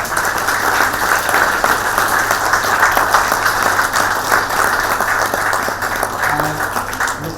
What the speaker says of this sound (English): a big round of applause for Sudipta